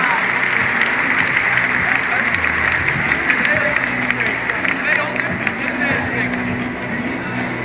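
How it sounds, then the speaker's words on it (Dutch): Applause and crowd noise for an athletics champion on stage at the Dutch Athletics Championships, a continuous loud wash of clapping and murmur with a voice speaking over it. "En nogmaals een applaus voor Simon Vroemen"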